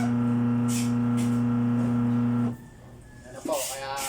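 A repaired washing machine motor spins with a strong, steady low hum that stops abruptly partway through, followed by quieter mechanical rattling.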